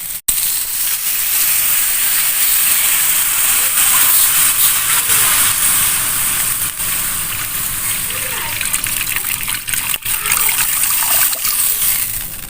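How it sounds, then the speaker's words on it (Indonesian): Water poured into a hot, dry pan of fragrant aromatics for noodle soup gives a loud, steady steaming hiss and sizzle that runs close and continuous throughout. "Kita masukkan airnya ya guys."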